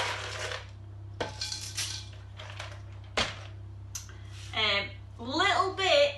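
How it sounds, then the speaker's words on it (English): A handful of dry pasta tipped into a cake mix during a children's bake-off, giving a few light rattling clatters, with children's voices and squeals around it. "Next is going to be a handful of pasta."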